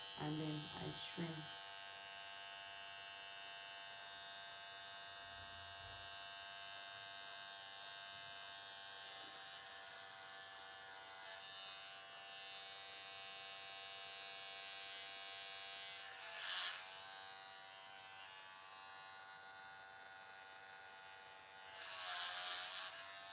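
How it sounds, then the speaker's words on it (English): A hair clipper buzzes steadily and evenly at close range while a hairdresser trims hair to a blunt cut, with brief louder swells as the blade meets the hair. "And I'm just going to turn on my clipper. And you hear that."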